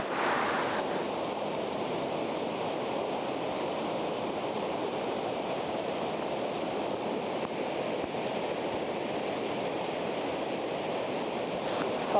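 Steady, loud rush of river water and a waterfall close by, a dense broadband roar that holds unbroken throughout with no voices.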